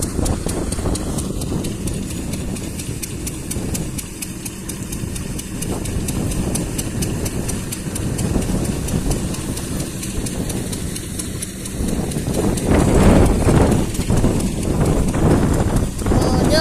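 A tractor engine runs steadily nearby with a throbbing low rumble, joined by rhythmic knocking clatter and louder revving toward the end.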